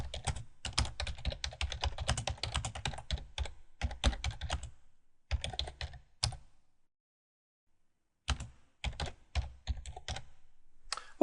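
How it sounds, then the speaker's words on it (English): Rapid clicking of computer keyboard keys in several bursts, with a short quiet pause before the typing resumes. "All I do is click in this cell here and start typing."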